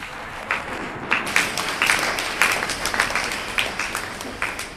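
An audience at a church gathering in Winneba, Ghana, claps with sharp, uneven rhythmic bursts of applause, moderately loud and steady for several seconds, with no speech over it.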